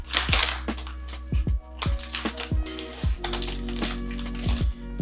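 A plastic snack package being pulled and worked open by hand, with repeated crinkling, crackling rustles and thumps in uneven bursts, close and fairly loud, no voices.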